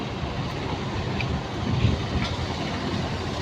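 A Vande Bharat train passes through a station, a steady loud rumble of wheels and carriages rolling by close at hand.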